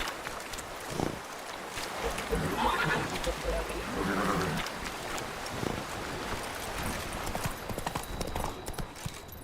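Hooves of the horse Roach clip-clop at a gallop across open ground in The Witcher 3, a quick steady beat with a neigh partway through and wind noise behind, while a voice speaks briefly.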